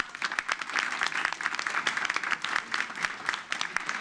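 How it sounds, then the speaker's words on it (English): Applause from the audience at a city council meeting, dense, steady clapping from many hands filling the room for several seconds at moderate loudness, with faint crowd murmur underneath. "Let's give them a round of applause."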